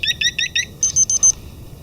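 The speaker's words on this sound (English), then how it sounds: "when the alarm does go off, the remote starts to sound, and the alarm as well" Scorpio motorcycle alarm remote sounding a rapid series of electronic beeps, a burst of four chirps followed by four higher sustained tones, close and loud with no talking.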